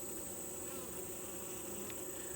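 Honeybees hum steadily inside a hive as a new queen is introduced, a faint, continuous close-up drone with no talking.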